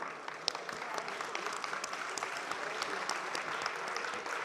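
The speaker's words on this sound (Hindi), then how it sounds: "उनके लिए तालियां।" Applause at a lawyers convention, a dense continuous patter of many hands clapping, fairly distant and steady, with no talking.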